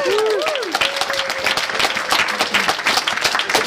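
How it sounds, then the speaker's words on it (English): Wedding guests applauding at a best man's speech, a dense burst of clapping from a crowd that carries on steadily, with brief voices and whoops mixed in. "which I think deserves a round of applause."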